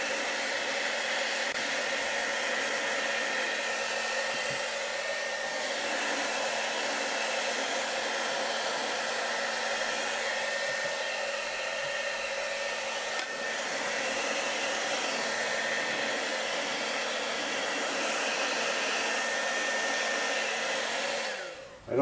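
A hair dryer blows steadily and loudly for over twenty seconds while drying the oil drip pan of a vintage Singer 403A sewing machine, an unbroken whooshing hum that cuts off abruptly at the end.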